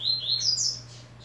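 Bright, high whistles of a coleiro songbird in quick descending and rising phrases, clear and close over a low steady hum, no voices.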